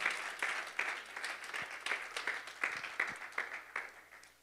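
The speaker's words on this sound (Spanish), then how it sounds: "Puede brindarle un aplauso de mayor calidad al Todopoderoso esta mañana." Faint, scattered clapping from a church congregation at a distance, rising and falling in loose bursts with no one speaking.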